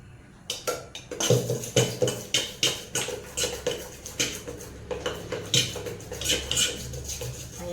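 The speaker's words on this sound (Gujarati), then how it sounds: "એમાં આપણે નાખશું ચણાનો લોટ અને સરસ મજાનું મિક્સ કરી દઈશું" Gram flour being mixed into yogurt in a bowl brings rhythmic, close scraping and tapping strokes of a spoon against the bowl, repeating roughly twice a second.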